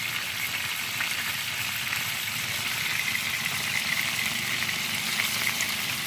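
Peshawari chapli kababs fry in a pan of hot oil, giving a steady, even sizzle that hisses on without pause at close range.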